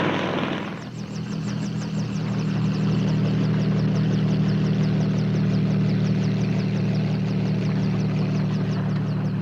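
Steady, loud helicopter engine and rotor drone in a radio drama, a helicopter flying toward the Las Vegas Boulder Dam area, with rhythmic blade chop sustained throughout and no voices.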